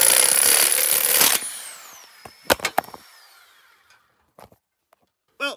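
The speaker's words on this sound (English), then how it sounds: "So I'm going to use my sawzall." A reciprocating saw cuts metal on a ZJ Grand Cherokee snow plow setup, a loud buzzing burst for about the first second and a half, then a few sharp clanks and scattered knocks trailing off into near quiet.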